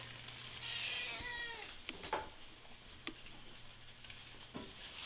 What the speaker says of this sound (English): Yes, I have a noisy cat.